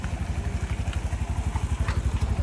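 An auto rickshaw engine idles close by in Pune with a loud, steady, throbbing putter of rapid, even pulses and a light mechanical clatter.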